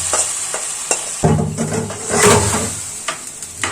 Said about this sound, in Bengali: আবার আলু মিটকে ভেজে দিলাম